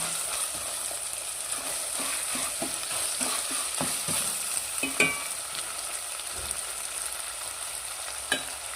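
Brinjal curry masala cooks in a pan with a soft, continuous sizzle, broken by intermittent scraping stir clicks, heard up close with no talk.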